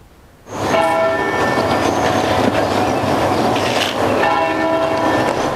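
A church bell tolls on a still summer evening in Wiltshire, heard at a distance as a steady, sustained ringing wash with layered overtones that fills the air without pause and with no voices present.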